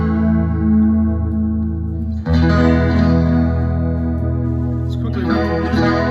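Electric guitar from a 2013 Fender Stratocaster American Standard, run through an amp's chorus effect, rings out in sustained, shimmering chords with a thick wobbling tone. A fresh strum lands partway through and another near the end, all loud and close with no talking.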